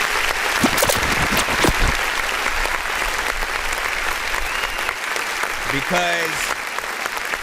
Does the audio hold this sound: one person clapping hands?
yes